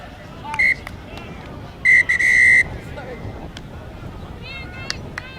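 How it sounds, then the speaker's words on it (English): A referee's whistle at a women's ten-a-side rugby union match, sounding as a short toot followed by a longer sustained blast, moderately loud over steady crowd babble and commentary. "And there goes the whistle."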